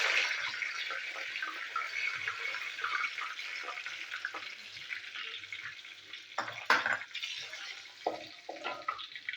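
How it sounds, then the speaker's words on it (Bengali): Cumin seeds and a bay leaf hit hot oil for a Bengali tempering while cooking taro, giving a soft crackling sizzle that swells with a few sharper pops and clatters near the end. "এই জিরের ফোড়ন দিচ্ছি, তেজপাতা ফোড়ন দিলাম"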